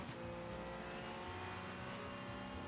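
A car engine revving in the Gran Turismo 4 racing game, played with a wheel, gives a steady, loud, continuous drone with shifting harmonic tones and no talk over it.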